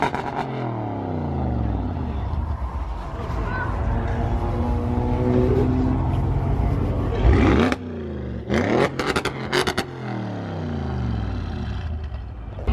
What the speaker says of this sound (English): Pretty sure as well this guy's had a full exhaust system on because it sounds